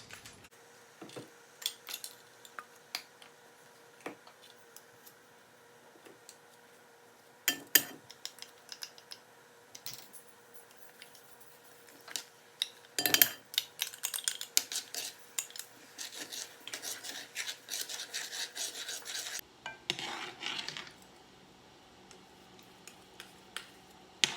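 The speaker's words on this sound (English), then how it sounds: "We're just gonna get all of this mixed up in here" A spoon clinks and scrapes against a pot of boiling oat mixture in scattered, uneven strokes, with a busier run of metallic rattling partway through.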